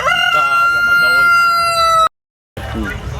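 A rooster on a chicken farm in Gairo, Tanzania, gives one loud, close crow, then a short silence and a burst of rougher farmyard noise.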